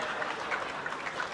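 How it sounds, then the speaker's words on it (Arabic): A crowd at a CAF 2025 awards ceremony claps warmly for Badraoui, a short burst of dense, even applause at moderate level with no speech. "تصفيقات حاره السي البدراوي"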